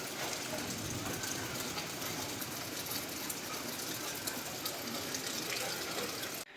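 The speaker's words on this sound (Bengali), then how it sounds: "এই দেখো ভালো বৃষ্টি হচ্ছে।" Heavy rain pours down outside a window, a dense, steady wash of noise that stays constant and fairly close before cutting off abruptly at the end.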